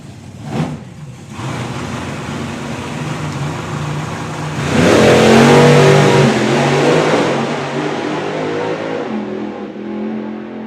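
A supercharged Ford drag race car in the Supercharged Outlaws class launches down the strip at a drag racing event. A brief blip comes first, then a loud roaring surge that swells and slowly fades into distant engine drone.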